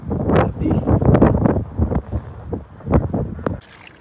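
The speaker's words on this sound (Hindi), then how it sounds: "हवा चल रही है बिल्कुल तेज" Strong gusting wind at a mountain tent campsite near a river in Himachal, buffeting the microphone in loud, uneven blasts that rise and fall over several seconds before easing at the end.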